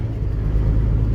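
Car ride on the road back to Bari, Italy, with the driver braking and accelerating jerkily; a loud, close, steady low engine and road rumble fills the cabin, with no talking.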